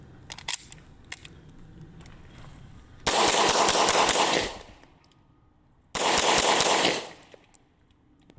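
Two sustained bursts of rapid gunfire from an Oracle Arms 2311 Compact Pro pistol, loud and close, separated by a short gap, with small clicks and handling noises between strings.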